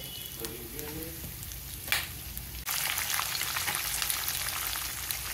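Green chilies dropped into hot oil for tamarind rice: a quieter sizzle with a clink, then a sudden loud, crackling burst of frying that stays dense and steady to the end.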